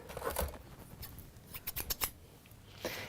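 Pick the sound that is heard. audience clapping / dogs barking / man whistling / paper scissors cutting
paper scissors cutting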